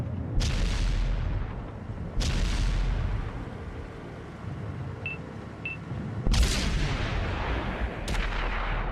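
Gunfire and heavy volleys in a competitive video game match, with several loud booming bursts spaced a few seconds apart over a steady rumbling background of battle noise.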